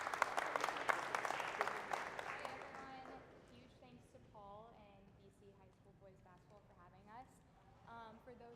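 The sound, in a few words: audience applause welcoming a guest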